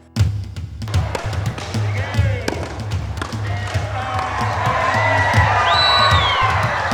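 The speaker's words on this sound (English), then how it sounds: "Cheers ring out of the town court" A crowd of villagers cheers and whoops in a Kalinga town court during a wood-splitting competition, with sharp thuds and claps cutting through the rising, sustained roar of voices.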